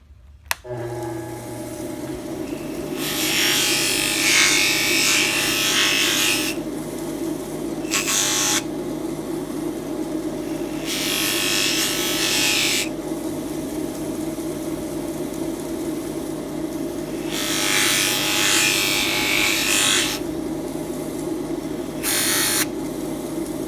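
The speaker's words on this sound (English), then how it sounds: "This is my buffing setup right here." Buffing wheel cleaning a burr off a metal edge on a 1/64 scale Peterbilt model, a steady motor whine running throughout with repeated bursts of bright abrasive scuffing as the piece is pressed against the wheel.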